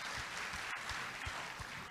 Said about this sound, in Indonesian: kasih tepuk tangan dulu Pak